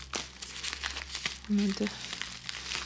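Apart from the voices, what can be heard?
handling a small plastic bag from a parcel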